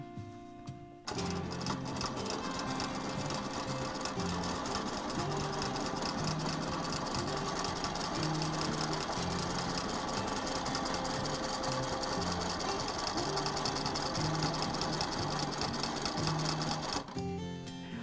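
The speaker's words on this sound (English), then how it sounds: "even if you're working on a domestic machine" A domestic sewing machine stitches a quilted circle, running steadily and loudly for about sixteen seconds with a fast rhythmic mechanical whir and needle clatter, starting and stopping abruptly, no voices.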